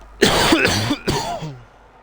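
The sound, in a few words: coughing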